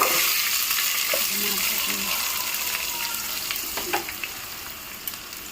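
Chopped medium onions and slit green chillies hit hot oil in a pan with gourd beans, giving a strong, close sizzle that slowly settles, with a few utensil taps near the end and no talking.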